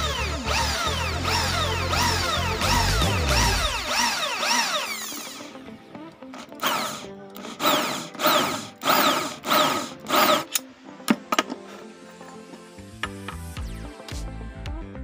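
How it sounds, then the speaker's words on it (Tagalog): A power drill bores a hole through the metal chassis of a Smash 115 motorcycle, steady whine for about five seconds, then a run of bursts and ratcheting clicks as the bit works through, with scattered metallic knocks after. "So, bubutasan na lang natin yan, tapos lalagyan natin ng nut"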